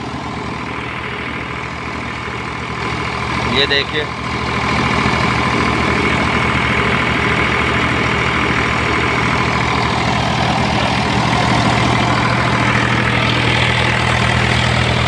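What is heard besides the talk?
Eicher 485 tractor engine idling with no load, cutter attached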